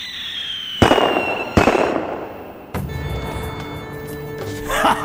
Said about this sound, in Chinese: 听见没有？听见这炮声没有？